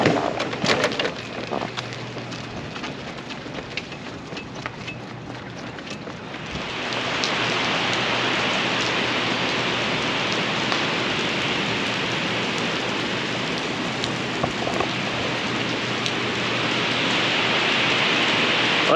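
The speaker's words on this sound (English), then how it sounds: "that's an unexpected rain shower" A sudden rain shower starts outdoors partway through, jumping from quiet to a steady, dense hiss of drops that keeps going without a break.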